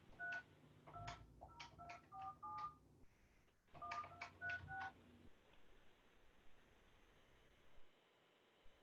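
Telephone keypad tones sound as a phone dials into a Zoom meeting line, two quick bursts of short beeps separated by a pause, followed by faint line hiss and no talking.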